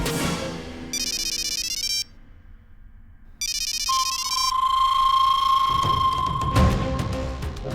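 An incoming call sets off a mobile phone ringtone, bright electronic chirps in two bursts followed by a sustained tone, then rising background noise, all loud and close with no one speaking.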